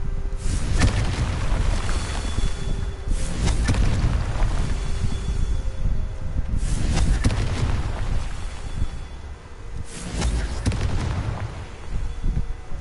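Confringo blasting-spell explosions in Hogwarts Legacy, several loud booming blasts spaced a few seconds apart with rumbling tails over continuous game noise.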